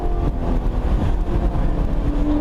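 A Mazda Miata race car on the VIR track is held at full throttle, its engine a loud, steady, close drone with a raspy, low-pitched hum that barely varies.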